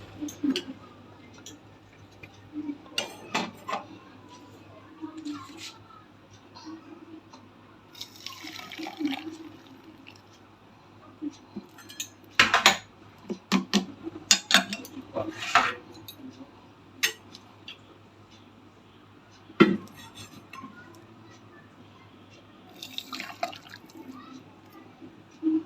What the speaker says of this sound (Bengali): চাটা ঢেলে নি।